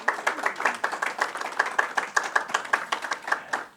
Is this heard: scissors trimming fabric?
no